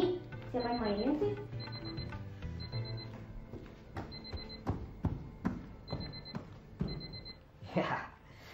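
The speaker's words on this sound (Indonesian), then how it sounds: "baru jam segini kok wifi-nya bunyi?" A wifi device rings in repeated short electronic bursts, a high beeping tone recurring about every second, while people talk loudly over it with clatter and bumps in an indoor comedy scene.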